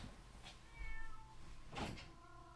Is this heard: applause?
no